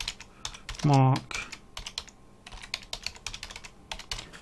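Rapid typing on a computer keyboard, dense close clicks in uneven bursts, with a brief spoken word partway through.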